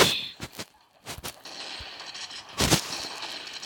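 Gunfire in the video game Pixel Gun 3D comes as several quick sharp shots, some close together, over a low background hum. No one speaks.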